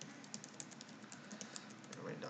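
Quick, faint typing of an email address on a computer keyboard, a light rapid patter of key clicks over low background hum with some faint voice.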